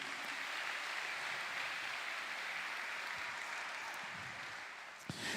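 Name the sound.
congregation applause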